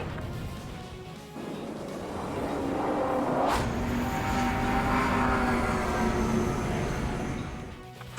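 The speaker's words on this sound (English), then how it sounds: "Aircraft approaching at high speed" An aircraft in the Ace Combat video game sweeps past at high speed, a loud jet roar swelling over several seconds with a sharp burst midway, then fading slightly.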